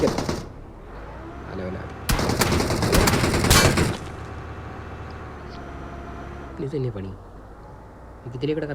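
A rapid burst of video game gunfire crackles loudly for about two seconds, framed by in-game ambience and other effects, while a person talks over the action.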